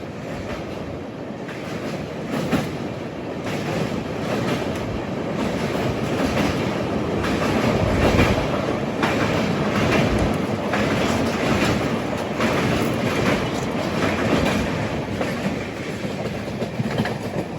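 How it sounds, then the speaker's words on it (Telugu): An Indian Railways train rolls steadily through a track crossover on the Pinakini Superfast Express route, with continuous loud rumbling and repeated clickety-clack of wheels over rail joints, heard close from on board with no talk. "ఇది ఏదో బండి క్రాస్ ఓవర్ మళ్ళీ చూద్దాం ఏ బండి"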